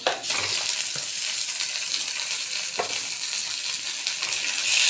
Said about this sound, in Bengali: বাটাটা একটু নাড়াচাড়া করে